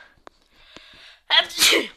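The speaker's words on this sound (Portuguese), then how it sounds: "eu vou espirrar" A single sudden, explosive sneeze close up, preceded by a quick breathy inhale and a couple of faint clicks.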